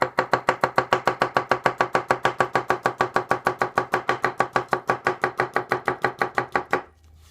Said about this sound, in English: a lot of where I'm going to be chopping is going to have board contact